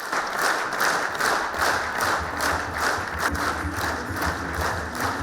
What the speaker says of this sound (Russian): Сооронбай Жээнбеков покинул заседание Жогорку Кенеша под аплодисменты.